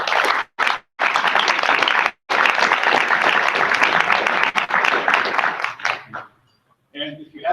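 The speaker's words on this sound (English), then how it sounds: "So let's give them a round of applause." A conference audience gives sustained applause lasting about six seconds. The clapping fades out and a voice begins speaking.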